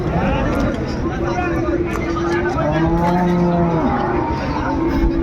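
Sahiwal cattle, cows and calves, low repeatedly with long, droning moos over a noisy background of crowd chatter at a busy livestock market in Brahmanbaria, Bangladesh.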